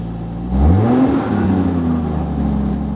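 A VAZ 2104 car fitted with a Toyota Supra engine revs up close, its pitch climbing then settling into a loud steady drone, heard from inside the cabin.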